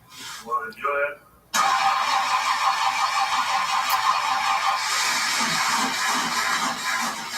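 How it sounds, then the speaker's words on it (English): A truck engine fires up after battery cable and timing adjustments, catching abruptly after a brief voice and settling into a loud, steady running rumble that continues to the end. "After tightening up some battery cables and finicking with the timing a bit, we finally got the truck to fire off."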